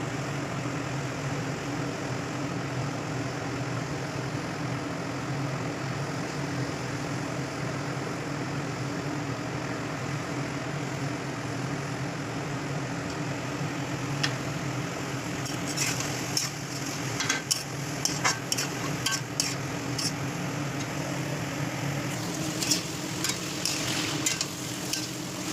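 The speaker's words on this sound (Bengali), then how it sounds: "এবার এর মধ্যে সব মশলাগুলো দিয়ে ভালো করে নাড়াচাড়া করে নেব।" Mixed winter vegetables with spices sizzle steadily in a pan, Bengali style, under a constant frying hiss, while a spoon scrapes and stirs in a burst of sharp clinks toward the end.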